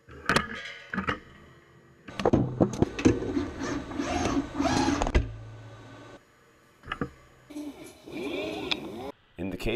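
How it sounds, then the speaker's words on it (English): An industrial robot in an automated cell picks up wooden beehive frame parts and sets them on a turntable, giving clacks, knocks and a stretch of whirring and rubbing, with someone speaking over it. "The robot picks up these singulated parts and places them on the turntable."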